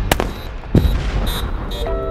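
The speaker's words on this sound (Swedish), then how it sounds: "Skott kommer!" Blasting charges go off at a construction site, with sharp, heavy bursts at the start and again near the middle, followed by lingering rumble and scattered debris noise.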